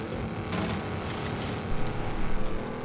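BAC Mono engine in Forza Horizon 5, a steady dense roar throughout with a slight surge toward the end, no talking.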